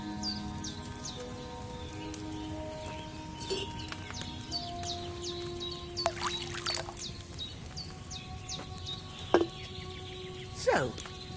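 Wine poured from a pitcher into a cauldron in Kingdom Come Deliverance 2, a faint liquid trickle under quiet ambient room noise with occasional clinks and knocks.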